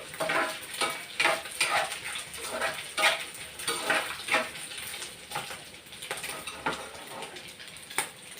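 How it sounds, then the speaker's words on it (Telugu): Food fries quietly in a pan, with a soft continuous sizzle and repeated light clinks and scrapes of a utensil stirring against the metal. "ఇది వేగుతున్నాయి చూసారా, చక్కగా వేగుతున్నాయండి"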